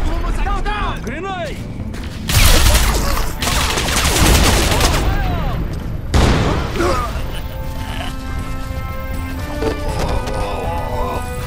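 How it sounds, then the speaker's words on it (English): Combat in the video game Crysis Remastered: a grenade blast booms out, followed by rapid bursts of gunfire and further heavy impacts, with shouted voices and chatter mixed into the noise. "Grenade!"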